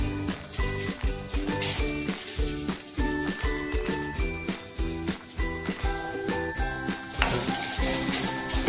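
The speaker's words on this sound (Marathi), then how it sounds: "टोमॅटो परतून घ्यायचा आहे." Tomatoes for misal pav sauté in a pan, giving a steady close sizzle broken by repeated rhythmic clinks and scrapes of a spatula against the metal, with a louder clatter near the end.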